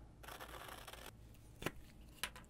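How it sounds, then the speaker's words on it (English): Scissors cutting out a paper label for a DIY wand box, a soft snipping rasp at first, then two crisp separate snips close by in a quiet room. "I'm just gonna cut it out with my scissors."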